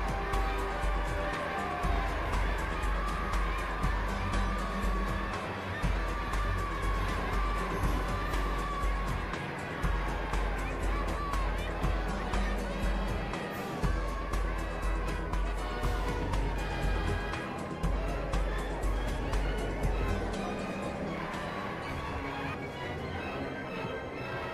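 Dense crowd in Algiers cheering and acclaiming President Vincent Auriol, a continuous roar of many voices with a steady rhythmic pulse beneath, loud and sustained throughout before easing slightly at the end.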